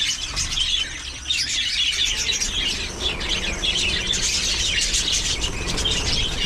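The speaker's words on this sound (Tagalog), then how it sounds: "Yung mga parakits natin." A flock of pet parakeets chirps and tweets continuously, a busy overlapping chatter of high calls close by with no one speaking.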